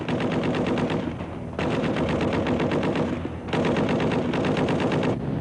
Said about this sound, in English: Gunners shooting from aircraft.